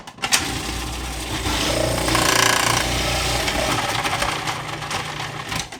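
A kitchen machine shreds cabbage and carrots: a steady, loud motor whir with a grinding, chattering edge that rises in the middle and runs continuously for about six seconds.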